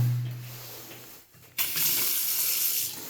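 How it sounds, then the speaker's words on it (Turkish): Tap water runs in a newly built village house, first a low hum and some handling, then a brief lull before a steady, close hiss of water streaming from the faucet that carries on to the end. "Su da akıyor."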